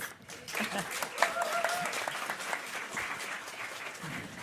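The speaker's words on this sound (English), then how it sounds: "And the first one who dares always gets an applause." An audience at a forum breaks into sustained applause with many hands clapping, fairly close and steady, while a voice speaks faintly beneath it.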